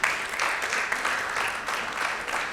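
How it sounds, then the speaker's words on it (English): Applause from a conference audience at an African biosecurity and biobanking event, steady and dense for a few seconds, moderately loud and close. "I think they deserve a round of applause."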